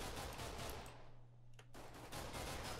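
Gunfire in Minecraft Mine Strike, a burst of rapid shots at first, then a short lull with a low hum, then more shooting resuming, quiet overall and with no voices.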